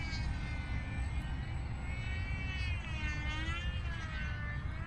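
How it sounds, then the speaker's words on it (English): A Maule M-7 radio-controlled model plane with a 1.5 m wingspan makes a full-throttle low pass, giving a sustained high electric whine whose pitch bends and wavers as it passes over a steady outdoor background. "do a full throttle low pass"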